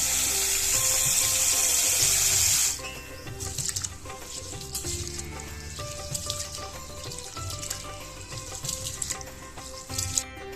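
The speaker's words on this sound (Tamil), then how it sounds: "இப்போ இந்த அரிசியும் பருப்பையும் ஒரு நேரம் கழுவி தண்ணியை தூர ஊற்றிட்டு" Rice and moong dal washed in water for sweet pongal, with a loud splashing rush of running water at first, then softer sloshing and swishing as the grains are rinsed by hand, with background music throughout.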